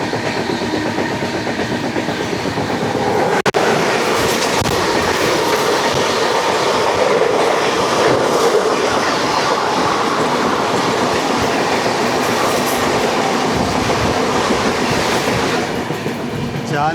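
Jalna-Raichur Express rolling past on the Wadi-Vikarabad line, a loud, sustained roar of wagons with clickety-clack of wheels on rail joints and faint squeal, close by and continuous.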